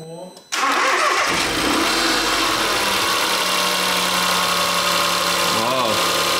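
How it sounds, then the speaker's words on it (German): A Smart 453 Brabus engine cranks and catches after a brief quiet moment, then runs steadily at a loud, close idle with a rattling timing-chain fault, and a short rise in revs near the end. "Dann starte doch mal bitte das Auto und lass uns doch mal gucken, ob das gute Stück anspringt."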